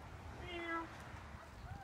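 A cat stuck up in a tree gives a faint, drawn-out meow over outdoor background noise, with a second brief mew near the end.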